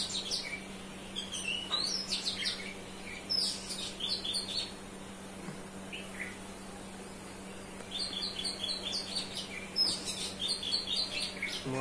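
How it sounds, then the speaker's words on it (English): Birds chirp and tweet outdoors in repeated bursts of bright calls over a steady low hum, with no talking. "The chirping of birds"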